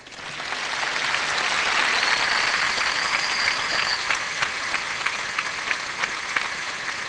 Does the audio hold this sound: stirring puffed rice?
no